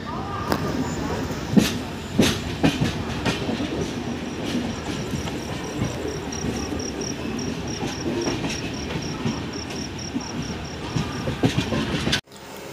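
Inside the 12837 Puri Express as it pulls out of Kharagpur, a continuous rumble of wheels on rails with rhythmic clickety-clack thumps and a high insect-like whine, cutting off abruptly near the end.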